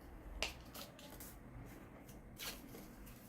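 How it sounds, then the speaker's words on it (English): Paper circles are creased and folded in half for a 3D planets craft, giving a few close, soft crinkles and crisp snaps spread across several seconds, with nobody speaking. "I'll take the second circle and fold it as well"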